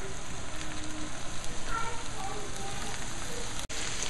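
Ground beef fries in a pan for spicy Asian lettuce wraps, giving a steady close crackling sizzle with soft stirring scrapes and a brief sharp click near the end.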